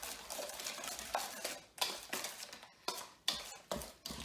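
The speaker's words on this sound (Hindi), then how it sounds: "अब मैं दूध डालूंगी अंदर। हाँ, ये भी अच्छी तरह से मिलाना है।" A spoon stirs milk into coffee cake batter in a bowl, giving soft repeated scraping strokes with sharper clinks against the bowl about every second, close and fairly quiet, with no talking.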